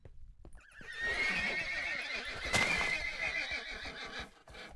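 A horse in Minecraft neighs in a loud, drawn-out whinny that rises and falls for several seconds, close and clear, with no talking over it.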